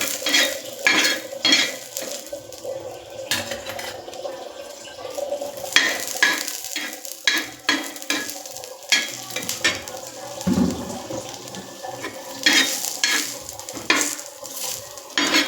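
Chicken curry frying and being stirred in a pan, with repeated scraping and clinking of a utensil against metal over a steady sizzle, close and continuous with no talk.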